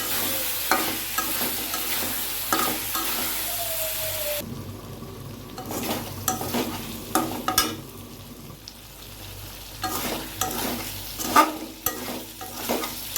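Eggplant and mixed vegetables are stir-fried in a pan for a hilsa fish curry, giving a sizzle that drops partway through, with repeated scraping and clattering stirring strokes on top. No one speaks.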